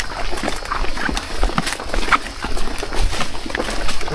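A horse arrives with a loose, uneven clip-clop of hooves on hard ground, fairly close and loud, in a rural outdoor setting.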